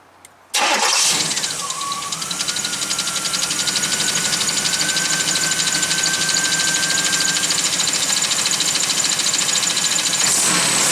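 A third-generation Pontiac Firebird's engine starts up and keeps running steadily, loud and close, with a steady high whine held over the engine note and no talk.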